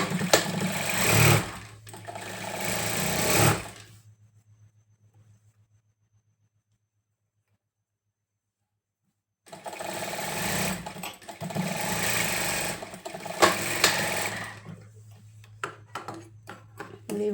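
A sewing machine stitches a straight seam in two steady runs of rapid mechanical whirring, about four and five seconds long, separated by a long silent pause; close and fairly loud.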